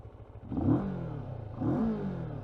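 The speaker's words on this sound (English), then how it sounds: "It's not very loud, but it's got a nice parallel twin thrum to it." A 2022 CFMOTO CF650GT parallel-twin motorcycle exhaust, close and moderately loud, rising in two revving throttle blips with a steady thrumming idle between them, no talking.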